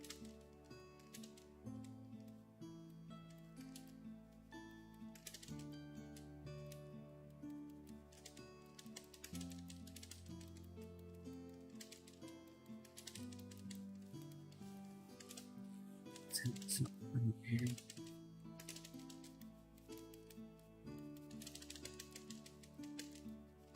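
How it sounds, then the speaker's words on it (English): Quiet, steady computer keyboard typing clicks run throughout a digital art livestream, sitting under continuous background music with a brief louder burst of keystrokes partway through. "Hopefully my keyboard is not too loud."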